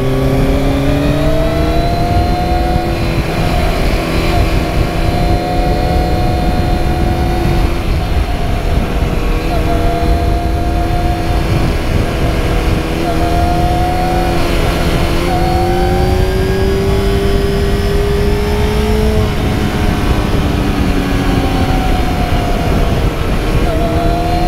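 A motorcycle engine hums and revs steadily while riding, its pitch rising and falling with the throttle, loud and close throughout with no break.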